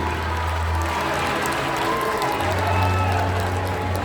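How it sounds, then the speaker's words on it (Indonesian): Audience applause at a motivational talk in a packed hall, a steady wash of clapping that fills the whole moment with crowd noise beneath it. "Tepuk tangan dulu."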